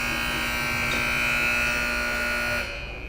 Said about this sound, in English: that's the buzzer